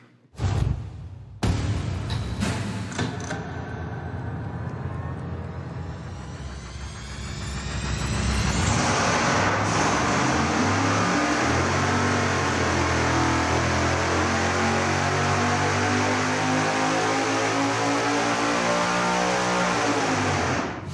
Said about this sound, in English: we're gonna fire it up now and find out what kind of power difference we might see